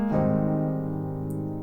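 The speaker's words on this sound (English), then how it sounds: "You've changed it to a 7th chord," A flat major 7th chord struck once on a keyboard, ringing out cleanly and decaying slowly for under two seconds with no other sound.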